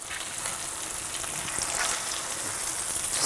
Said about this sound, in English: Start stirring them around and getting them evenly browned.